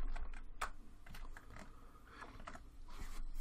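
Keys tapped on a computer keyboard while entering a short word into a text shape in Microsoft Word, a quick cluster of light, close clicks over faint room noise.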